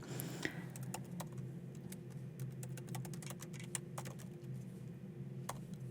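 Rapid, uneven clicks of fingers typing on a computer keyboard, steady and close, with a low constant hum underneath and no talking.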